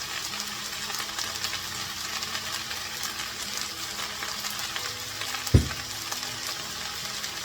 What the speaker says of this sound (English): We'll saute until the green beans are done and the potatoes are a little browned.